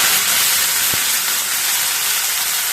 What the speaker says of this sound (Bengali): লঙ্কা, তেজপাতা আর হচ্ছে পাঁচফোড়ন ফোড়ন দিয়ে দিলাম